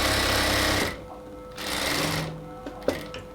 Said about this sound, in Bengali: তো প্রথমে আমরা লক সেলাই দিয়ে নিচ্ছি।